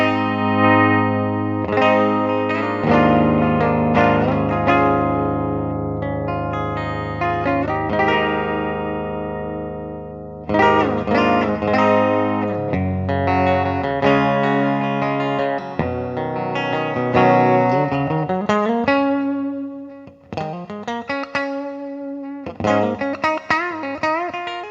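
A 1999 Gibson Rocks America electric guitar played with its tone knob rolled down, strummed chords and picked single notes through effects with chorus and light reverb, fairly loud and continuous, pausing briefly between phrases.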